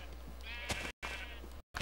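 Sheep bleating in Minecraft, a wavering, nasal bleat heard close and loud, repeated in short bursts with brief gaps of silence between them.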